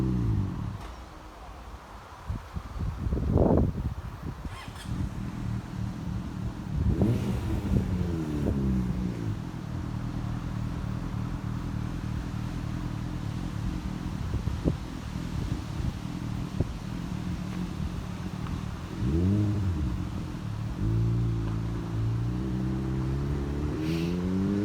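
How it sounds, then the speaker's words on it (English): A motorbike passes a rural level crossing at Bathley without waiting, with several vehicles sweeping by in rising and falling engine tones over a low steady background rumble. "A motorbike can't be bothered to wait."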